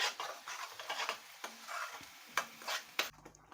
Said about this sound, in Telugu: మనం దీన్ని బాగా మీడియం ఫ్లేమ్లో పెట్టేసి బాగా ఫ్రై చేయాలి.